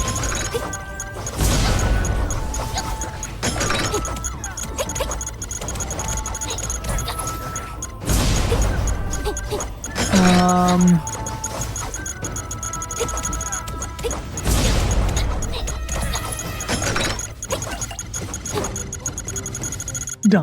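Explosions go off in a fight in the video game My Time at Sandrock: loud crashing blasts recur every few seconds against game music and effects.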